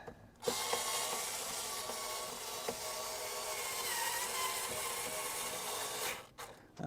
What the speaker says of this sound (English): let me get my little cordless drill